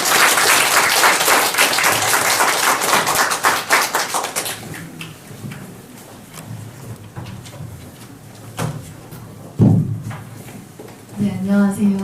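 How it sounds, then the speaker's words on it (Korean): Warm applause from a library audience at an author talk greets writer Jang Hye-young, strong at first, then thinning to scattered claps that fade after about five seconds. Shuffling and a few knocks follow. "그럼 큰 박수로 멀리서 오신 장혜영 작가님을 모셔보도록 하겠습니다."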